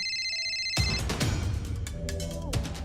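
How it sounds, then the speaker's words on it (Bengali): A phone ringtone for an incoming call plays as a steady electronic tone for under a second, then is cut off by louder broadband noise. "ডক্টর রানীর ফোন এসছে"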